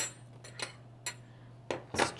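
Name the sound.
small twist-off cap wine bottle being handled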